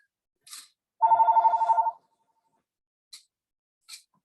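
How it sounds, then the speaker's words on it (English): A telephone bell rings in one brief burst of rapid trills in a quiet classroom, with a few faint clicks or breaths before and after. "Oh, the phone rings sometimes."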